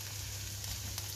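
Chorizo sizzles steadily in olive oil with chili, garlic and red onion in a pan, a soft continuous crackle with a low hum beneath and no voices.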